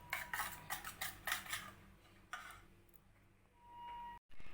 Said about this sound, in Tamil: ஒரு ஃபோர்க் இல்லைன்னா விஸ்கு இருந்துச்சுன்னா இந்த மாதிரி விஸ்கு இருந்துச்சுன்னா நல்லா பீட் பண்ணுங்கள்